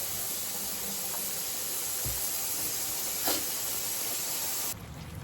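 Coconut milk chicken tenders frying in a pan give off a steady, close hiss of sizzling oil with no break, ending in a slight drop near the end.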